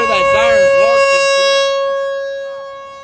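An outdoor warning siren sounds during a Great Plains storm in May 2023, a steady sustained wail held at a constant pitch with strong overtones that slowly fades, while people talk over it.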